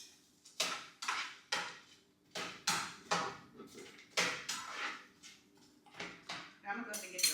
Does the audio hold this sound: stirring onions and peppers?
yes